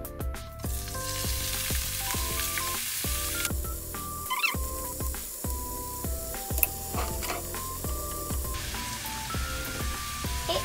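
Burdock root sizzles and fries in sesame oil with chili in a pan, a steady crackling hiss broken by repeated stirring clatters and scrapes, close and continuous without speech.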